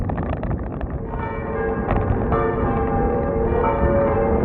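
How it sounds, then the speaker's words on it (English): Cathedral church bells in Quebec ringing out at noon, steady tolling tones sustained throughout over a continuous wash of outdoor wind and ambient noise. "They're ringing the bells."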